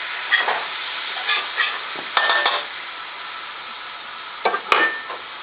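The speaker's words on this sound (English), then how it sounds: "get her stirred up a little bit more to ensure that there's plenty of seasoning throughout the entire substance in the pan there" Seasoned meat is stirred as it fries in a pan, giving a continuous sizzle broken by scraping, clattering utensil strokes in short bursts, with a louder cluster near the end.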